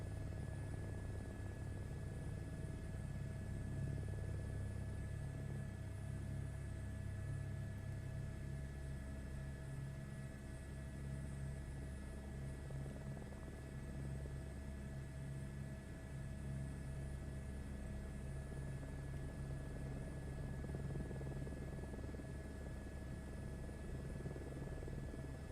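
A helicopter in Microsoft Flight Simulator 2024 flies around Sydney, Australia, its rotor and turbine making a steady, even drone with a low rhythmic thump, unchanging and unaccompanied by speech.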